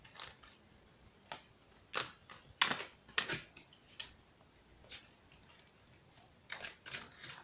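Oracle cards being shuffled by hand, a quiet series of irregular soft flicks and riffling snaps spread across several seconds.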